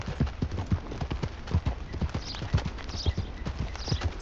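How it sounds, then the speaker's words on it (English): Horse hooves clip-clop at a steady walking rhythm in the Red Dead Redemption 2 video game, a close and moderately loud run of repeated hoofbeats with no talk over them. "You're quite the horse."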